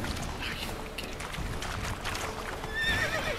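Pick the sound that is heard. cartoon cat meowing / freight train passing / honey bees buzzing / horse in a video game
horse in a video game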